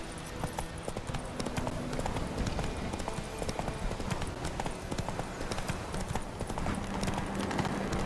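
A horse gallops in The Witcher 3, its rapid, steady clip-clop hoofbeats running close and loud through the whole stretch, with no speech over them.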